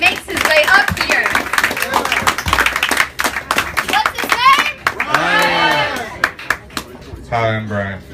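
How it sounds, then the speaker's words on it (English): An audience claps for a performer heading to the stage at an open mic poetry night, a dense patter of hands running steadily under the voices of people talking and calling out nearby. "round of applause as Bryant makes his way up here"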